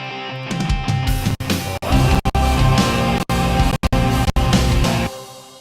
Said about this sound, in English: the first guitar that comes in sounds like this.